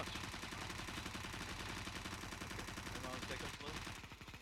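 Rapid automatic gunfire in Counter-Strike: dense, sustained bursts of crackling shots from a video game, loud and continuous, with a brief clatter near the end as the firing eases.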